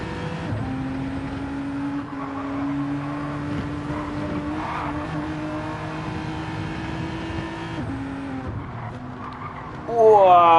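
Race cars in Gran Turismo 7 at the Sardegna circuit squeal their tyres at the limit, a sustained engine drone with long skidding whines, then a sudden louder revving burst near the end.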